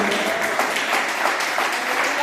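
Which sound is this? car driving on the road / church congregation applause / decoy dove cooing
church congregation applause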